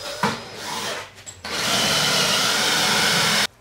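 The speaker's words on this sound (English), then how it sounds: "Now I gotta drill through" A power drill grinds through aluminum on a boat transom in a loud, steady burst after a couple of short starts, then cuts off abruptly.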